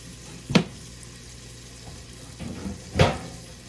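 Bacon sizzles in a pan, broken by two distinct scraping clatters as it gets stirred, close and fairly quiet, with no talking.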